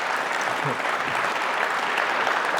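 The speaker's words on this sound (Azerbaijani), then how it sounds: "Yəni də Hacını bir dənə ürəkdən alqışlayaq" An event audience gives a warm round of applause for Hacı Əliyev, a dense, even patter of many hands throughout the short stretch, fairly loud and close.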